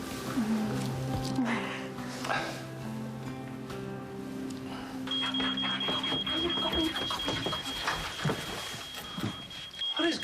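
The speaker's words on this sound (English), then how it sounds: "I think it's the smoke alarm." A smoke alarm sounds a steady high electronic beep continuously through the second half, under a busy mix of voices and household clatter.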